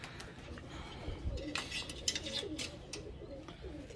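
Soft pigeon coos and rustling flutters drift in faintly over a quiet background, several low calls spread through a few seconds.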